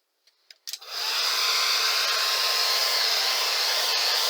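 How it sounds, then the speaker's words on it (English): After a couple of clicks, a hair dryer switches on and blows with a steady, loud airy whir, close by and uninterrupted, drying paint. "this is a great time to pull out the hair dryer again"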